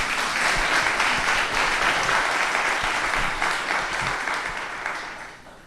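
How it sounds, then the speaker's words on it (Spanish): Steady applause from a live audience at a church service fills the room, loud and continuous, then tapers off slightly toward the end. "Now you can give a clap."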